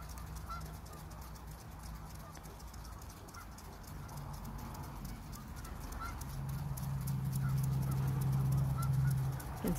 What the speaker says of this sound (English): You can see all the geese out there.